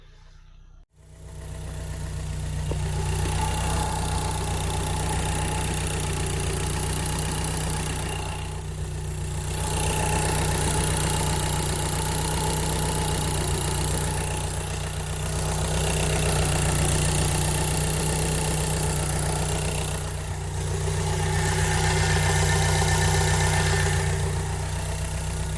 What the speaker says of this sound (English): as well as the exhaust at idle